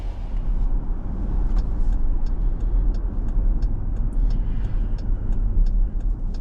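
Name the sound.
2023 Dodge Durango R/T AWD driving off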